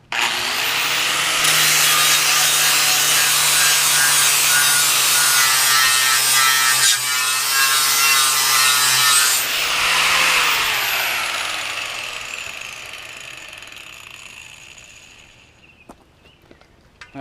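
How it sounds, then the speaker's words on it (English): Harsh, steady abrasive grinding of an angle grinder flap disc sanding paint off a metal disc for a cowboy wok, loud and continuous, then tapering off as the tool winds down. "basically it's just a disc that goes on your angle grinder"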